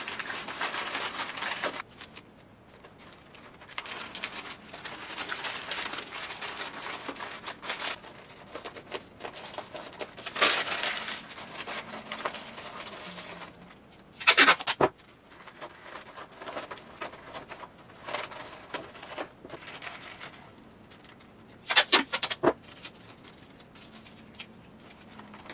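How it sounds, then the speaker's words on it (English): Wide masking tape pulled, crinkled and torn in repeated bursts while padding a paper mache raccoon armature, close and fairly quiet, with several sharper rips standing out. "I got some nice wide masking tape I'm going to be using."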